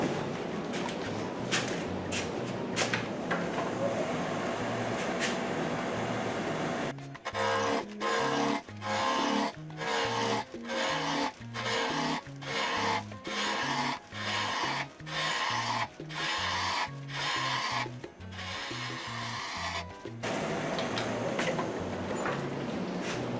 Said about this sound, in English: And grab a spindle rough gouge.